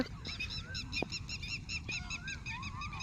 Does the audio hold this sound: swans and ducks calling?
yes